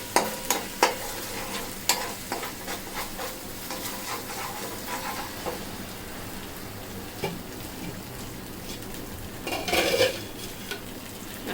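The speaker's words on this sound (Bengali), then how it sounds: "এখন এখানে এই তেলের মধ্যে দিয়ে দিব আরও 1 টেবিল চামচ আদা বাটা।" Ginger paste frying in hot oil for a chicken tehari, stirred with a utensil: a steady sizzle under repeated scraping and clinking strokes against the pan, close and fairly loud, with a busier burst of stirring near the end.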